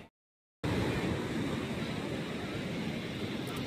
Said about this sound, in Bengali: দূরের ঢেউগুলো না কেমন দিচ্ছে জানো